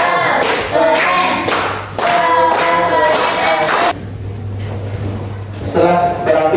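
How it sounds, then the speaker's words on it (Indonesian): Children in a religious education class in Malang clap in short rhythmic bursts interleaved with loud group chanting voices, the claps sharp and close with brief pauses between patterns. "Kita berikan tepuk tangan."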